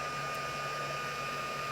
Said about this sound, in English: if you just use your heat gun, it will dry and you'll get some variations in color